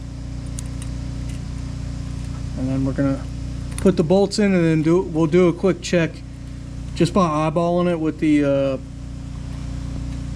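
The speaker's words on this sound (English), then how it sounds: "the next door neighbor's pressure washing should hopefully will be done here in a few minutes" A neighbor's pressure washer runs next door as a steady, moderate background drone throughout, partly masked by someone talking over it while installing the steering on a 1959 Willys Jeep CJ-5.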